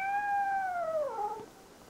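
A single cat meows once, a clear falling cry lasting about a second and a half, close by and alone over faint background hiss.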